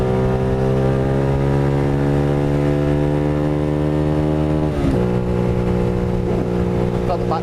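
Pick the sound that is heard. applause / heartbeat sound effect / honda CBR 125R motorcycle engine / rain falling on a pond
honda CBR 125R motorcycle engine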